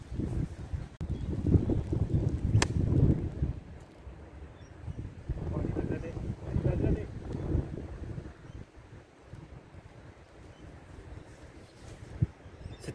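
Wind gusts across an open golf course, buffeting the microphone with low rumbling surges that rise and fall, strongest early and midway and easing later.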